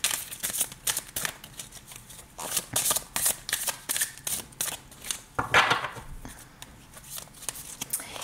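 Tarot cards shuffled for a reading, close rapid riffling and flicking in irregular bursts, with a louder flurry near the middle, crisp and fairly loud, with no voice.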